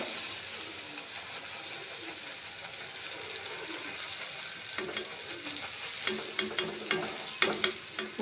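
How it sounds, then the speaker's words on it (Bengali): Batter-dipped decorative pitha crackling in hot oil, a steady dense sizzle running throughout with sharper pops and spatters growing louder toward the end. "এই ডিজাইনটাকে এই ব্যাটারের মধ্যে ডুবিয়ে গরম তেলে ছেড়ে দিল"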